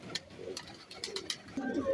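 Breeding pigeons coo softly in a loft, their low, throaty calls repeating steadily and fairly faint over a light background hiss.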